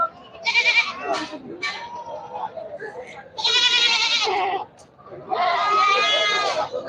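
Large goats bleat at a crowded livestock market in Bangladesh, with three long, loud, close wavering bleats separated by shorter calls and background murmur.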